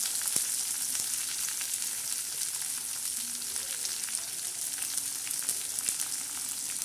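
Onion and bombil (Bombay duck fish) fry in a pan with a steady, close crackling sizzle that runs unbroken throughout, with faint stirring and no talking.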